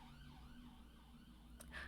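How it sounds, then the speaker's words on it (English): An emergency vehicle's siren passes at a distance, its faint rising and falling wail sweeping steadily under low background rumble. "I'm just going to let that siren go past."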